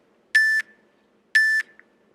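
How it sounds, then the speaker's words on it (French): An interval timer for a burpee workout gives two identical electronic beeps, each about a quarter second long and spaced a second apart, clear and loud against a quiet background. "on va avoir le premier bip, le deuxième, le troisième"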